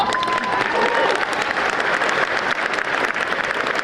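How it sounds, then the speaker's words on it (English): Sustained applause from a graduation ceremony audience honoring a high school band after its prelude, a steady, dense clapping that fills the whole stretch with no break. "with a round of applause"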